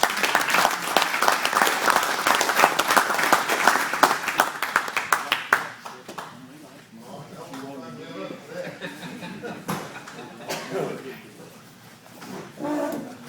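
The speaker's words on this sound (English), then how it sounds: "Let's give him a applause." Audience applause and clapping at a Sons of Confederate Veterans meeting, loud and dense for about five seconds, then fading into scattered murmurs and talk from the room.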